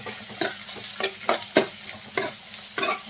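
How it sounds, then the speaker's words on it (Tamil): Chopped ginger and garlic sauté with onions in a hot pan, a soft continuous sizzle broken by repeated scraping stirs of a spatula, close and without talk. "சேர்த்து இதையும் லைட்டாக வதக்கிடுங்க"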